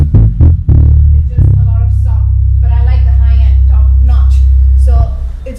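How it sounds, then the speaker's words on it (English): A bass guitar with its mid-high EQ rolled all the way down plays a deep, dull sustained note after a few short plucks, while someone talks over it. "If I roll this down completely, it's gonna sound like this."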